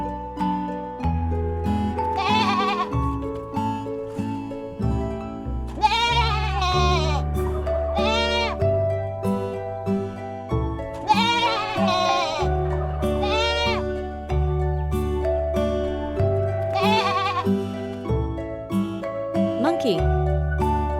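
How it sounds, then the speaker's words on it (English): A goat bleats several times in loud, wavering calls over steady background music. "Goat."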